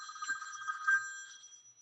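A mobile phone ringtone goes off during a conference call, a bright, steady electronic ring with held tones that sounds close and moderately loud before fading toward the end, with no talk over it.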